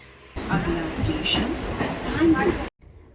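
A Mumbai local train running toward Kanjur station gives a steady rumble and rattle from inside the carriage, with a brief squeal and a voice speaking over it.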